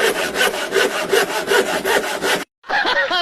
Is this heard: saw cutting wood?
yes